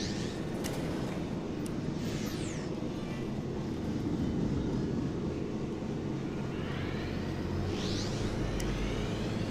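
A submarine engine in a video game runs as a continuous low, rumbling drone that stays even and steady from start to finish, with faint higher whooshes passing over it.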